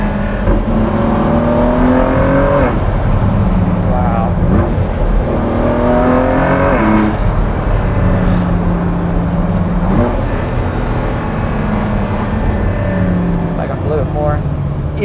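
Ford GT Carbon Series engine drones steadily from inside the cabin while driving, its pitch rising through each gear and dropping at the shifts, loud and continuous under conversation.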